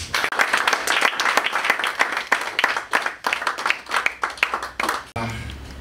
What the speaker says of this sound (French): je voudrais que nous tous nous applaudissions fortement l'intervention de l'orateur du jour